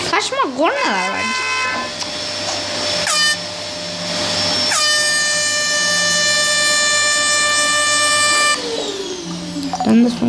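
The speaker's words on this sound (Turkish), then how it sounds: "Saçma kornalar var." A string of loud novelty horns: a warbling whoop, then long sustained musical blasts of a truck-style air horn, each held for seconds.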